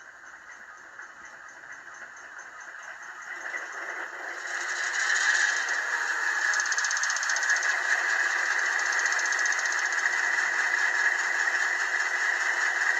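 A model Burlington Northern SW1200 diesel locomotive's prime mover sound, from an ESU DCC sound decoder, idles in a steady drone, then swells louder around the middle and holds a rough, rumbling hum to the end.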